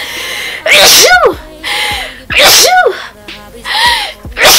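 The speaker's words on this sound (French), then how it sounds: "Là je viens d'éternuer tranquille" A person sneezes several times in quick succession, each sharp burst preceded by a rising intake of breath, very close and loud.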